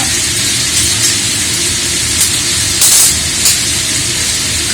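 Panch phoron and dry red chillies hit hot oil, making a loud continuous sizzling hiss with a few brief sharper spits and crackles partway through, and no voices.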